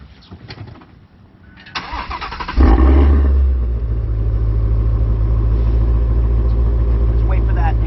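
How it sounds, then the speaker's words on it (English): A brand-new car's engine cranks and catches after some quiet handling noises, then settles into a loud, steady low rumble close by, with a voice speaking briefly beforehand. "let's hear it start up."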